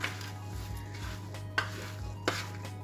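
Nut muesli is stirred with oil in a bowl, a quiet, close scraping and shuffling of oats and nuts broken by two sharp clinks of the spoon against the bowl, over a steady low hum.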